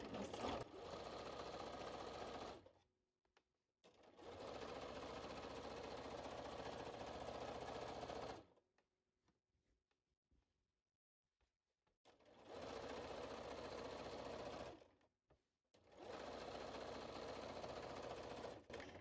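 A Bernina 440 sewing machine quilts spider web patterns, whirring steadily in three long runs separated by quiet gaps, close and clear with no speech over it.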